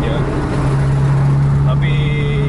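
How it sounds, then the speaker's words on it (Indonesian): A Mercedes-Benz-engined Armada Indah intercity bus on a road in Aceh moves out to pass a truck, its engine drone steady and loud beneath continuous road rumble, with a voice talking over it. "Indahnya udah ke depan, udah siap overtake ke truk ya."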